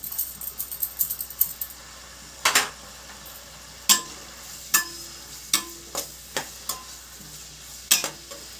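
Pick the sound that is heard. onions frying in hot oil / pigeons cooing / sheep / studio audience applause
onions frying in hot oil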